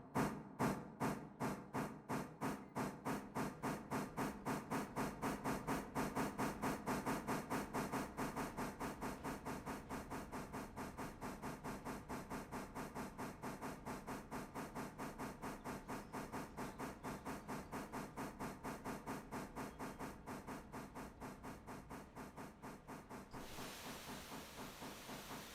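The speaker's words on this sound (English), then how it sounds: "Ah, the sound of steam. Gotta love it." Steam hisses steadily from a model railroad steam locomotive in rapid rhythmic chuffs, close and continuous for the whole stretch, easing off slightly near the end.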